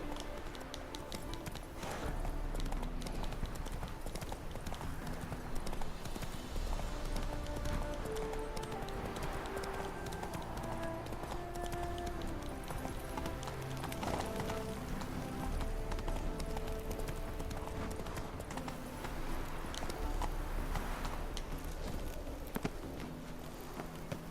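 In The Witcher 3 video game, a horse runs with a continuous rhythmic clip-clop of hooves over game music and ambience, steady throughout at moderate level.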